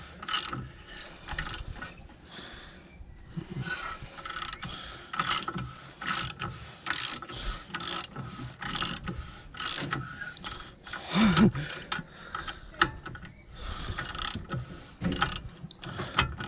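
Repeated ratcheting clicks and metallic knocks from a spanner working a nut on a Volvo V70 inner track rod end, coming in steady bursts close by with no talking.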